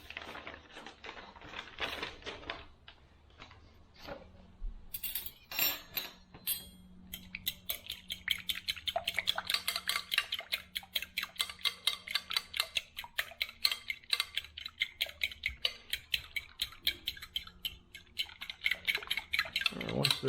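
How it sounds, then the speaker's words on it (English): Keto cake ingredients are mixed in a bowl, starting with scattered clinks and taps and then settling into a fast, even run of rhythmic utensil strikes against the bowl, close and fairly loud. "Then we're going to mix these ingredients together."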